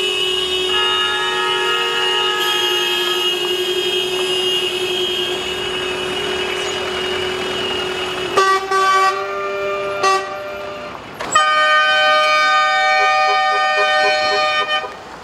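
Drivers on a badly damaged road between Kara-Suu and Osh lean on their car horns in a loud, sustained chorus of overlapping honks, with several long blasts and sharp bursts starting and stopping near the middle.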